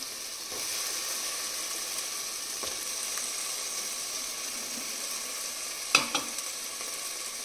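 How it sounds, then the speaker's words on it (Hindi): Three medium potatoes fry in hot oil in a pan for a carrot and potato curry, a constant even sizzle with a few faint scrapes and a brief clatter of stirring near the end. "आलू को थोड़ा सा भूनेंगे"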